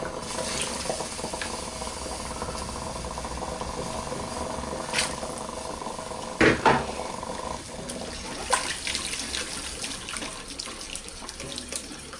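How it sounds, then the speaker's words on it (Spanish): Water runs steadily from a kitchen tap into a pot while cauliflower is being cooked, a continuous close splashing hiss that lasts throughout, broken by a couple of brief clunks partway through. "Al principio ocupamos agua y después vamos a poner también leche."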